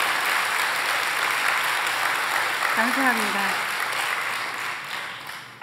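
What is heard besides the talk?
audience applause at church testimony meeting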